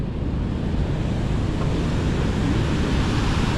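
A waterfall on the Nairobi River roars as a loud, dense, steady rush of falling water, broad and unbroken with some wind buffeting, and no voices over it.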